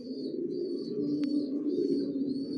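Pigeons in a loft of Johnson long-line racing stock coo with soft, low, rolling calls. The cooing goes on continuously from several birds close by, with a faint higher chirp now and then.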